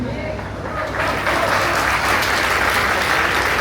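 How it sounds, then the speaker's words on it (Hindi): Audience at a spiritual and cultural gathering in Kotwa, Deoria, breaking into loud, sustained applause that builds and holds as a dense wash of clapping, with a voice faintly under it. "एक बार जोरदार ताली"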